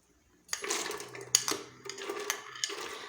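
Pomegranate seeds drop into a blender jug with a quiet rattle of small pattering clicks and a few sharper knocks against the jug, close by and faint, in bursts after a silent start.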